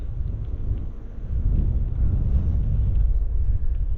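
A low, roaring wind gust of about 18-20 miles per hour buffets the microphone, swelling in strength halfway through and staying heavy to the end.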